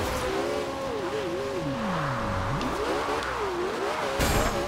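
Porsche 918 hypercar in the Forza Horizon 2 racing game, its engine pitch rising and falling sharply while drifting on a rain-soaked road, with brief tire squeal; loud and continuous.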